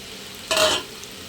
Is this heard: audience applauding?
no